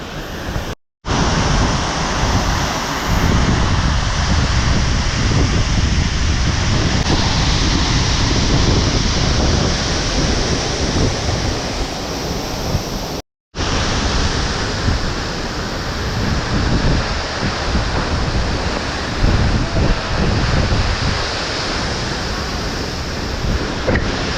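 A forceful waterfall at a Goa island fort and cave site, heard from about fifteen to twenty metres away as a loud, continuous roaring wash of crashing water and spray, broken by two very brief dropouts.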